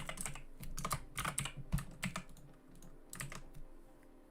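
Fingers type on a computer keyboard, with quick irregular runs of close, crisp key clicks that pause briefly and then resume; no talking.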